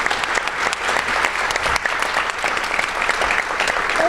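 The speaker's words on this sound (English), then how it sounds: "Let's give them a round of applause." Audience applause at a public gathering: dense, steady clapping from a crowd, loud and continuous for about four seconds with no talking over it.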